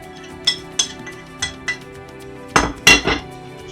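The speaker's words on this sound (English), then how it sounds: "Just mix that together." Ground almonds, flour and cinnamon being mixed in a bowl, a run of bright utensil clinks and taps against the bowl, irregular and close, ending with a couple of louder scraping knocks.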